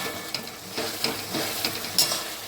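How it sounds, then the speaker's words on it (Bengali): Ground turmeric, coriander, cumin and chili powder frying and being stirred in a pan for mutton curry, a steady sizzle with scraping stir strokes throughout. "এবার আমি এটাকে কষাবো"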